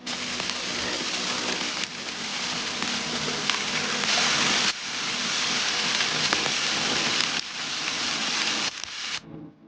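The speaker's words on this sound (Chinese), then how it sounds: "其实不是雨，它是雪啊，小米雪" Small graupel snow pellets falling outdoors at a wilderness fishing spot, a dense, steady pattering hiss like light rain that runs continuously with a few brief dips before cutting off near the end.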